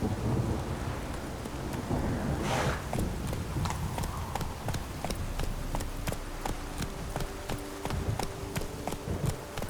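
Roach the horse from The Witcher 3 gallops with steady, rapid hoof clip-clops over a backdrop of rain and rolling thunder, the hoofbeats sharp and continuous throughout.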